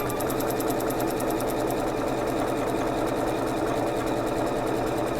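A domestic sewing machine works a buttonhole, straight stitching and bar tacking in a rapid, steady needle chatter, close and continuous with no voices.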